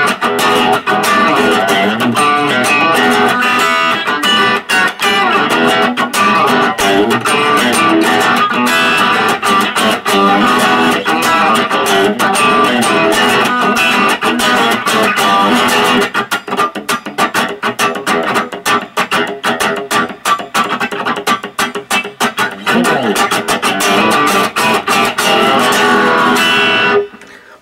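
Electric guitar played through an amplifier with a dry, balanced, moderately driven tone, strumming and picking continuously and close at a steady loud level throughout.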